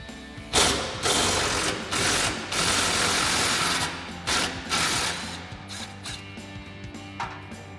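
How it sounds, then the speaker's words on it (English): An impact wrench with a 10mm socket and extension unbolts a muffler hanger on an EcoBoost F-150, firing in several short loud rattling bursts separated by brief pauses. "use your 10mm socket and extension on your impact and unbolt it"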